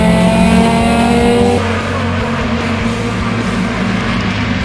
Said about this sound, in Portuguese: A partida agora está valendo, quadra verde, partem os pilotos para os 20 minutos de prova aqui no circuito de Guaporé.